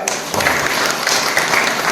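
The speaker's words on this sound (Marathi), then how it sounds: "डिसेंट फाउंडेशन यांना जोरदार टाळ्या" Loud, sustained applause from a crowd honoring the Decent Foundation at an eye check-up camp in Savargaon, steady clapping filling the whole moment.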